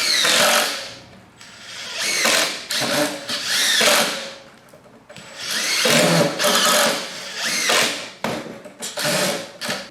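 DeWalt and Makita impact drivers driving small and larger fasteners, several loud bursts of rapid hammering rattle separated by brief pauses, close up.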